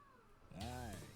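A house cat gives one clear, drawn-out meow close by, rising and falling in pitch, with faint background sound before it.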